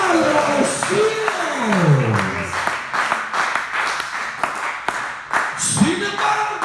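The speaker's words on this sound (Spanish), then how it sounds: "Alguien ayúdeme a levantar el nombre de Jesús en alto, de palmas, hágale al Señor una señal de que usted" A church congregation claps their hands in quick, steady rhythm while a preacher speaks loudly over the clapping throughout.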